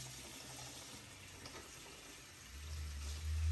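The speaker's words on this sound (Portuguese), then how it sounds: "nós vamos retirar o excesso do produto em água corrente" Tap water runs steadily as an instrument is rinsed under the faucet during sterilization, a soft continuous splashing stream with a fuller gush of water near the end.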